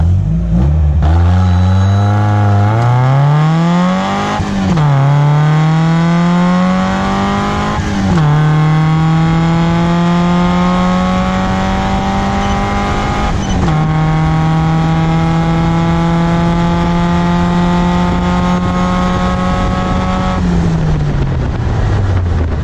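A go-kart powered by a Mazda Miata engine makes a quarter-mile run, its engine loud and close as it revs up through several gear changes, pitch climbing and dropping with each shift before easing off.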